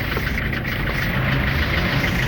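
A 2003 Toyota Hiace van engine idling steadily and close by, a continuous low rumble with no talk over it.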